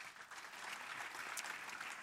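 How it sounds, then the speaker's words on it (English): An audience at the commissioning ceremony of the AI UniPod at UNILAG claps in a sustained, even round of applause, heard fairly faint and distant, with no talking over it. "Please, another round of applause."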